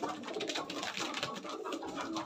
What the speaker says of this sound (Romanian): Până caut a cincilea porumbel.